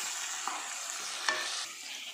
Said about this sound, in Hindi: अब हम इसमें डाल देंगे हमारा ब्लांच टमेटो और इसे अच्छे तरीके से मिक्स कर लेंगे।